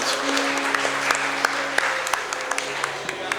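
A church congregation at a Christmas service claps steadily and enthusiastically, with sustained musical tones ringing underneath the applause.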